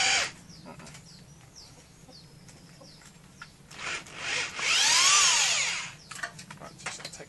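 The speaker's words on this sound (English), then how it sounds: "we're going to drill a smaller pilot hole first" A power drill boring a small pilot hole during polytunnel work revs up in a loud, close burst of about a second, with a few shorter whirs just before it and quiet outdoor ambience with fowl around.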